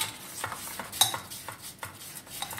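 Khaman dhokla batter being mixed in a bowl, with a steady run of soft scraping, swishing stirring strokes close up and no voices.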